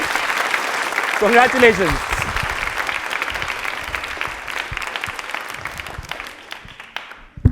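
Studio audience at a Hindi quiz show on Doordarshan breaks into steady applause that lasts several seconds and fades near the end, while a host speaks briefly over the start.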